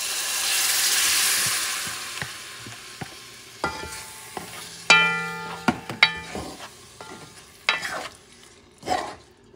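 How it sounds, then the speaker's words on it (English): Cooked beans being stirred into a sizzling frying pan for Puerto Rican arroz mamposteao, with an initial burst of hissing followed by scattered scraping and clinking of a spoon against the pan. "Make sure you mix things up and add your beans."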